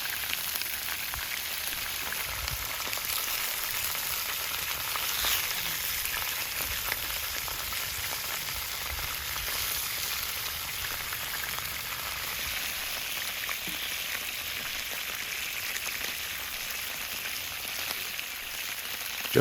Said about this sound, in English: The ribs meet the surface with a hiss